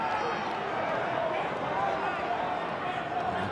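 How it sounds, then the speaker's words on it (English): A rugby league stadium crowd during a 2001 qualifying final between the Bulldogs and St George Illawarra Dragons, a broad, steady roar of cheering from many distant voices, with a commentator's voice running over it. "The crowd is into it."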